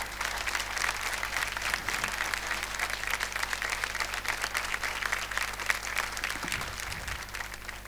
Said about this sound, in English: I think they demand the warmest of applause again.